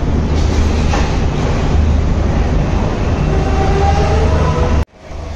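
Loud, steady rumble of a train pulling into Colombo railway station in Sri Lanka on the Galle to Colombo coastal line, with a sharp cutoff near the end; no talk.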